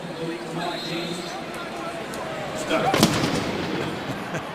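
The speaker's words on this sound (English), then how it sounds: "I guess the red zone is a cannon shot too, huh?" A stadium cannon fires at a Tampa Bay Buccaneers NFL game against the Panthers in 2013, a single sharp boom cutting through steady crowd roar, with commentators talking.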